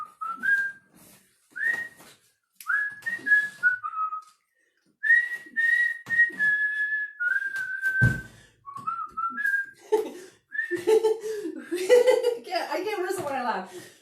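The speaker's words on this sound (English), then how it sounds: "Now I like to do a whistle version" A woman whistles the children's song "Mr. Sun" at a live library storytime, with pitch glides and phrases broken by pauses. She laughs and chuckles partway through, and her voice returns near the end.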